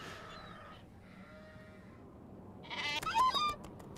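Sheep bleat in the Nancy Drew game The Haunting of Castle Malloy: a faint, wavering call early on, then a louder, clearer burst of bleating near the end over a quiet background.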